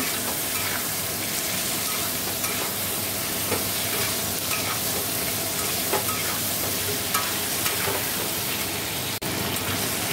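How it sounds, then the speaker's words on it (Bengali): A curry being sautéed with sugar in a pan gives off a steady, dense frying hiss up close, with intermittent soft scraping from stirring and a brief dropout near the end, and no talking. "দেখো চিনিও দিয়ে দিয়েছি, ভালো করে কষে নেব।"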